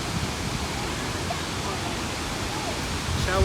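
Skogafoss waterfall in Iceland roars up close on a windy day, a dense, steady wash of falling water that fills the whole stretch.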